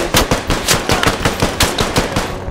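Rapid automatic gunfire rattles in a steady, loud burst of about a dozen close shots from the military shooter game Squad, with no talking over it.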